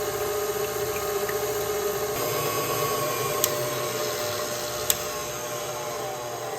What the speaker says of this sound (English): you wanna start off on like a lower setting and let it whisk up